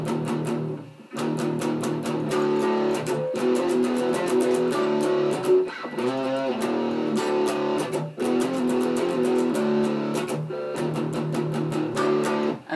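Palm-muted electric guitar chugging through the bridge riff of a song, tight repeated low chords broken by short gaps and dead-note stabs, loud and close with no talking.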